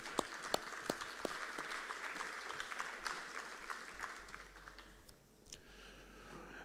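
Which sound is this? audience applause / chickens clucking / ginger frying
audience applause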